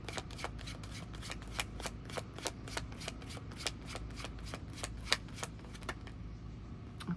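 A deck of tarot cards being shuffled by hand, steady quick riffling snaps in a fast even rhythm, close and fairly quiet, with no talking.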